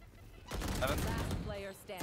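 Gunfire in the Valorant shooter, a rapid burst of sharp shots lasting about a second, close and fairly loud, with someone talking through part of it.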